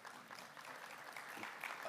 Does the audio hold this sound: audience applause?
yes